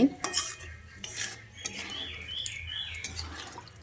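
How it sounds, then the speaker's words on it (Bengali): Spoon scraping and stirring in a pan as thick coconut milk is mixed into potatoes and drumsticks, with wet clinks and soft sloshing, close and fairly quiet, no talk. "আলু সজনে ডাঁটার সঙ্গে খুব ভালো করে মিশিয়ে নিচ্ছি"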